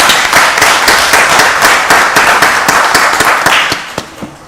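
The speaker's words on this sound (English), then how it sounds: "Let's give Ms. Charlotte Gillett a round of applause." Audience applause fills a county board of commissioners meeting, a dense burst of many hands clapping steadily and loudly before tapering off near the end.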